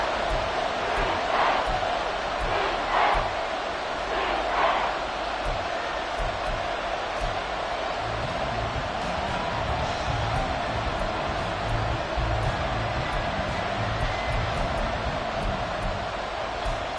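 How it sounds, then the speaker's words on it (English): A huge football crowd at Arrowhead Stadium roars without a break in a dense, loud, steady wall of noise, with swells of cheering in the first few seconds. "The Arrowhead crowd in full roar."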